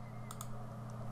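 Computer mouse clicks during Blender modelling work: two quick, close clicks and a fainter third one over a steady low electrical hum, with no speech.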